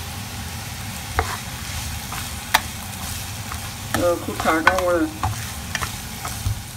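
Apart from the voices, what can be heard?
vegetables stir-frying in a pan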